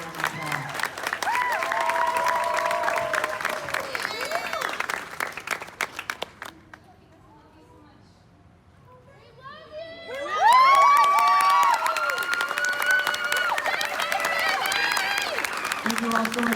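Audience at a Jacksonville High School musical production of Oz claps and cheers loudly, with shouts and whoops over steady applause. The noise dips to a quieter patch midway, then swells back to full, enthusiastic cheering.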